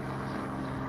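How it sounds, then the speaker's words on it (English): A tourist helicopter passes overhead as a steady, loud low rotor-and-engine drone filling the whole second without a break. "as the tourist helicopter flies overhead"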